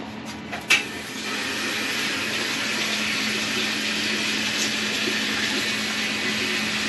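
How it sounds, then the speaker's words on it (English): Hot water running from a household tap, a steady broadband rush that begins after a brief clunk and continues evenly throughout, with a faint constant hum underneath. "I'm going to run some hot water so it doesn't shut off."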